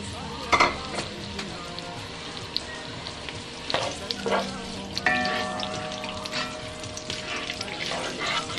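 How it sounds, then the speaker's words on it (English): Chopped onions frying in hot palm oil give a steady crackling sizzle close by, with a few sharper clatters and bursts scattered through it and some faint tonal background sound underneath. "And I'm gonna fry the onions for a little bit"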